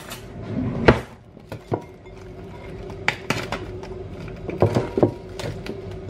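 Plates and pans clink and clatter while hot cooked food is served, with several sharp ceramic and metal knocks and scrapes spread irregularly over a few seconds at close range and no talking.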